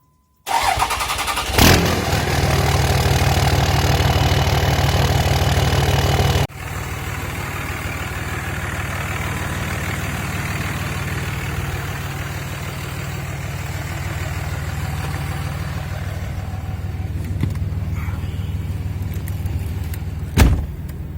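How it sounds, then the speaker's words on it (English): A 2003 Dodge Ram pickup with a 5.9 Cummins diesel cranks and fires, roars loudly, then drops to a steady, rumbling idle that runs on with a few clicks and knocks near the end. "I will fire it up and take her for a little drive here to end the video"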